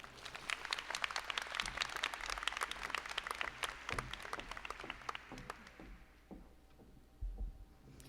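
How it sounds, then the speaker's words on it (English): Graduation ceremony audience clapping for the graduates, dense applause with sharp individual claps that thins out and fades after about six seconds, leaving a low hum and a few stray thumps. "Give them a hand clap."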